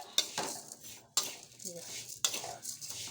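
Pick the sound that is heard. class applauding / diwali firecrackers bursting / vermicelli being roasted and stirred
vermicelli being roasted and stirred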